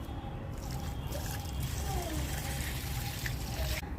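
Water trickles and splashes steadily onto a freshly planted sapling in soil, a continuous close pour under faint background noise.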